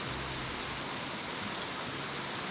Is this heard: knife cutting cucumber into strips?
no